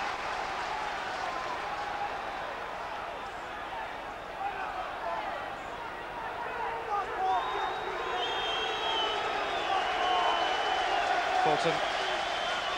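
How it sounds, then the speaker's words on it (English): Hearts fans applauding at Tynecastle during a football match against Rangers, a steady wash of distant crowd clapping and murmur beneath a commentator's voice, swelling slightly toward the end. "Plenty of applause from the Hearts fans, big favourite"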